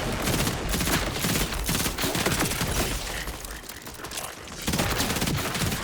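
Rapid, sustained gunfire from a high fire-rate gun in Borderlands, with dense overlapping bursts running almost the whole time and a brief lull near the end before shooting resumes.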